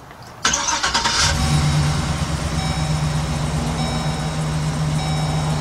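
Starter cranks briefly on a 2005 Chevy Express G2500 van with a random cylinder misfire, then the engine catches and settles into a steady, fairly loud idle hum with a faint high whine.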